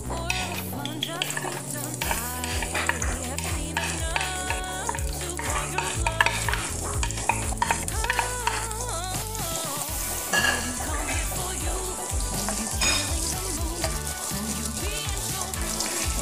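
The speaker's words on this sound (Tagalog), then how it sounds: "isote natin ang ating onion hanggang mag-translucent." Onion sautéing in a little oil in a pan or pot, a steady sizzle with stirring and utensil scrapes throughout, close and continuous, with background music and no talk.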